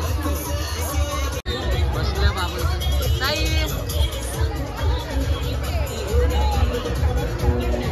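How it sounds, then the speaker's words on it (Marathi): Dense crowd babble at the Sajgav Khopoli village fair near the rides, a steady wash of many voices close around with a nearby speaker talking over it. "जिथं पाळणे आहेत तिथे जास्त गर्दी आहे बघा"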